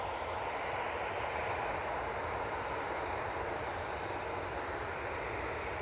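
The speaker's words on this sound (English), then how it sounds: "And Mike saying we've got G2 IB on the taxi out towards us. I look forward to another Dreamliner." A Boeing Dreamliner jet taxis at Manchester Airport, heard as a steady, broad engine roar and whine held at constant loudness throughout, with no talking.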